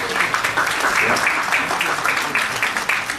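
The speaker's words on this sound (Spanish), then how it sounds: "les pido que se den ustedes un aplauso por estar esta noche asistiendo a este evento" Audience applause fills a hall at a Medtrition line pre-launch and PROAMINO MIX product launch evening, a steady dense wash of clapping held throughout at moderate loudness.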